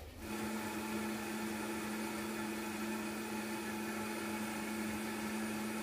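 A blender blending chicken broth starts up and whirs loudly and steadily at high speed for several seconds, close by.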